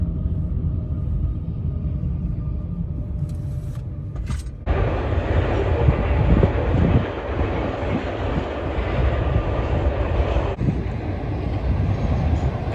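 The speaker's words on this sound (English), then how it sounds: "And here we have a train." A train rolls past a CPR rail crossing in Cornwall, Ontario, a loud, continuous rumble and rattle of wagons that holds steady for the whole stretch.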